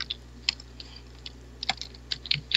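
Quick keystrokes on a computer keyboard come in short bursts of sharp clicks, close and fairly quiet over a low steady hum, with no voices.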